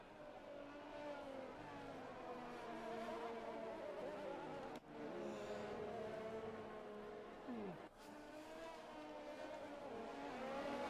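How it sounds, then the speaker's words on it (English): Race car engine from an F1 racing sim at Suzuka, a sustained high whining rev that rises and falls with two brief cuts in the drone, steady and loud throughout with no clear talk. "That man be revving his engine."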